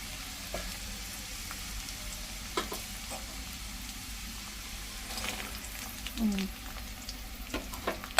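Lentils, onions and green chilies frying in oil in a pan, a soft continuous sizzle broken by spoon scrapes and stirring clicks, close and moderately quiet.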